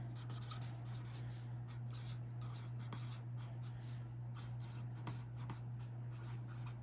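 A pen scratches continuously on paper in quick, close strokes, soft and steady over a constant low hum.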